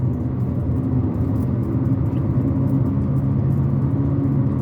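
Steady low rumble of tire and road noise inside a Hyundai i20 Sense driving in the evening, a continuous close drone with engine hum underneath, no talk.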